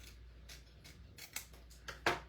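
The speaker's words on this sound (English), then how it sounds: "I'm going to hold it, flip it over, and I'm going to trim that now." Scissors trimming cardstock for a handmade greeting card, several quiet snips spaced through the moment with one sharper, louder cut near the end; no talking.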